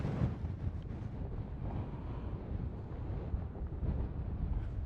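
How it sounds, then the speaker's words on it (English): Wind buffets the microphone near the summit of Pen y Fan, a steady low rushing roar that stays fairly faint and continuous with no voices. "So the wind's picked up again."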